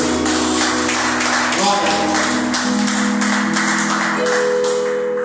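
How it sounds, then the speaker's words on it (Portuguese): A congregation claps during an evening church service, a sustained wash of applause under a loud sound bed with a voice and sustained musical tones running through it. "E a salva de palmas para o Senhor."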